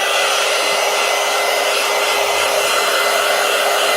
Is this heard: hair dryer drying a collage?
yes